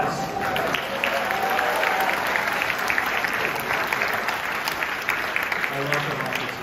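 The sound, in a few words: audience applause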